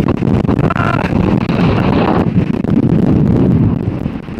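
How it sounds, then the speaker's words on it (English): Strong wind in the Colorado mountains buffets the microphone in a continuous loud rumbling roar, gusting steadily with no voices. "It's really windy."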